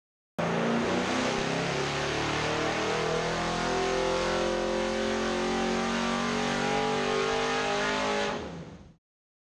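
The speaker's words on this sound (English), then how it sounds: "We did several pulls to establish a carburetor baseline jetting for this manifold." A V8 fitted with a Performer dual-plane intake manifold and carburetor roars through a sustained dyno pull to about 5600 rpm, loud and continuous for around eight seconds before cutting off abruptly.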